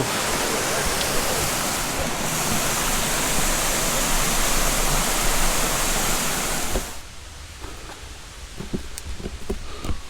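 A river in Scotland rushes loudly and steadily beside a woodland path, a dense broadband roar; the flow drops away abruptly near the end, leaving a quieter background with scattered small knocks and footsteps.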